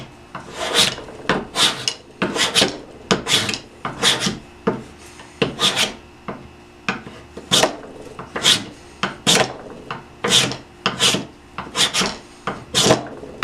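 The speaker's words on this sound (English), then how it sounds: "Now I got to sand them down and then check for square on these." Glued wooden hand-tool blanks being sanded down by hand, a steady rhythm of about twenty loud rasping strokes, close and regular, with no talking.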